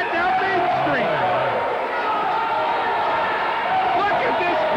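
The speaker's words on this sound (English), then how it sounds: "Look at this crowd become this angry." A wrestling crowd at a championship battle royal roars in a constant, dense wall of voices, loud and unbroken throughout, with a commentator talking over it.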